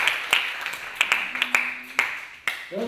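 A handful of scattered, fairly close hand claps from a small audience at a math problem-solving camp lecture, uneven and sparse, dying away within a few seconds.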